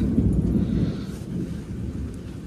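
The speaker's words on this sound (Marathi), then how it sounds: "अर्ध्या तासापासून विजा चालू आहेत एकदम भयंकर" Loud, close thunder rumbles through an ongoing storm with a steady wash of light rain and gusts of wind buffeting the microphone, with no voices.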